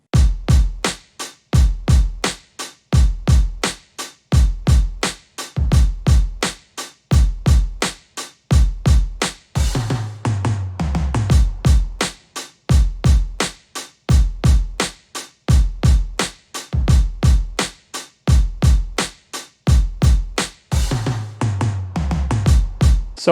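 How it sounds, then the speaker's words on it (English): Drum pattern with toms from a sample pack: punchy kicks and snares in a steady repeating groove, loud and close, with descending tom fills breaking the pattern at the end of phrases. "So let's listen to the drums alone."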